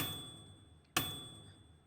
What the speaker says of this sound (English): A hammer might work.